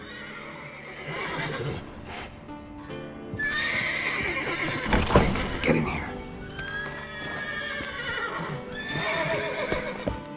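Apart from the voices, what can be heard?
agitated horses neighing in The Witcher 3 video game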